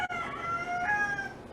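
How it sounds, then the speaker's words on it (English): Roosters crow near a home kitchen, a drawn-out wavering call with a second crow overlapping it, moderately distant and heard without talk. "And there's the roosters."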